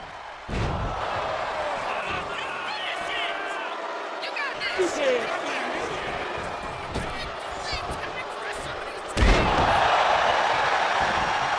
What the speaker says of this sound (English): continuing to dominate Mysterio with a series of brutal clotheslines and slams